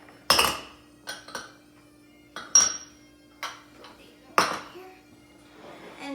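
Bowls and dishes being stacked in a home kitchen while making Irish potato candy, with several separate clinks and knocks of crockery spaced irregularly over a few seconds, close by, and a voice speaking briefly between them.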